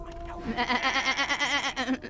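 A sheep in the video game Divinity: Original Sin 2 lets out one long, wavering bleat, loud and close, trembling for about two seconds.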